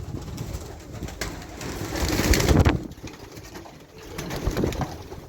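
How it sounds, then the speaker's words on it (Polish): Pigeons coo repeatedly at close range, soft throaty rolling calls rising and falling over a steady background hum, with no one speaking. "Gołębie są głodne."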